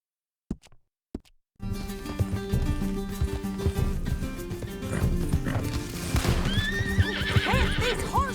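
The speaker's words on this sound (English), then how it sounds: "Can't this horse go any faster?" Two sharp knocks, then rapid hoofbeats of a galloping horse with a loud whinny near the end, over a busy soundtrack in the video game Red Dead Redemption 2.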